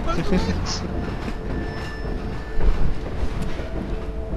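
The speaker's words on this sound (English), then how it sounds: "Damn train's going too fast." A train rolls along in Half-Life 2 with a low rumbling, rattling rail noise, while people talk over it.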